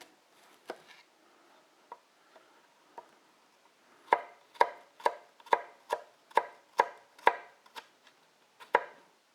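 A knife finely chopping a shallot on a board, a few scattered taps followed by a brisk run of about ten evenly spaced, crisp chops, close and clear with no talk.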